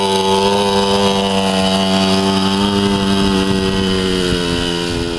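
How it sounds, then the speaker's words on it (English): An engine revving hard and steadily, a loud buzzing, harmonic drone held close for the whole stretch with only slight pitch wavering, no voices over it. "Rev the engine, buddy."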